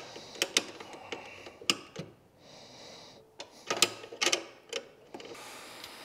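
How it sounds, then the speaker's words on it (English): A ratchet tightens a nut and lock washer on a C5 Corvette headlight during an LED headlight install, giving close bursts of rapid clicking with short pauses and a little metal handling in between. "we're gonna put our nut and lock washer on there"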